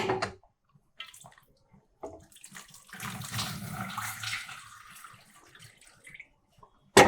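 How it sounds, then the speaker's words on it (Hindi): Water is poured into a melted cooking mixture for Himachali fanu and chulu chutney, a splashing, gurgling stream in the middle after a few small clinks and taps, with quieter handling noises around it. "अब इसमें थोड़ा और पानी डालेंगे।"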